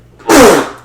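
A person lets out a single loud, close sneeze with a sharp burst and a quick fade, and no talking around it.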